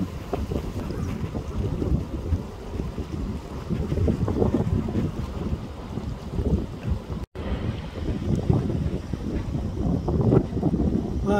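Flash flood torrent rushing through Wadi Sir after heavy March rain, cutting across a road; a steady, loud broadband roar of churning water with wind buffeting the microphone and a brief dropout midway.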